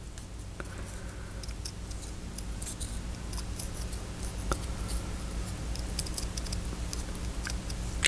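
Scissors snip through paper in a quick, irregular series of small crisp cuts, close and fairly quiet over a low background rumble.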